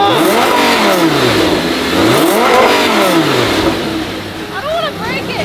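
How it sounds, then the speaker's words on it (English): A Nissan GT-R engine revs up and down repeatedly, rising and falling in pitch, close and loud, with a few quicker blips at the end. "You should give it some revs, okay? Rev it up."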